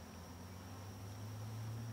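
A honeybee swarm buzzing during transfer into a hive, a faint, steady droning hum lasting throughout with no talking.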